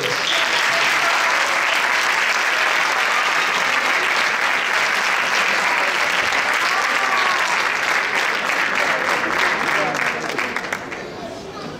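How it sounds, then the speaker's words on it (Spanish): A Christmas concert audience gives a loud, sustained ovation for a seniors' association choir, dense clapping that holds steady for several seconds before thinning out at the close. "les vamos a dar un fuerte aplauso a la coral Viva mi tierra de la Asociación de Mayores"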